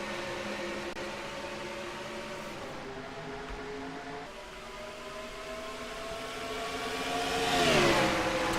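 Race cars accelerating at the green-flag start of a Las Vegas sportsman series race in a racing video game, layered steady engine drones rising in pitch with a swelling rev near the end, no talk.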